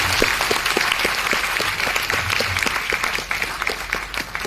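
Audience at a motivational talk in a hall, breaking into sustained, dense clapping that stays steady and fairly loud throughout with no voice over it.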